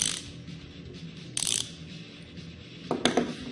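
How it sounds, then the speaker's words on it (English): A ratchet wrench is worked backwards, giving short bursts of quiet clicking separated by pauses, with a couple of sharper clicks near the end and no talking. "And that way the wrench will be able to go backwards so that you can go forward again."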